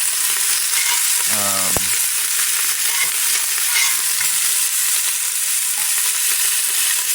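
Beef browning in a pan for stew gives a loud, constant bright sizzle that fills the whole clip, with one brief low scrape near the start.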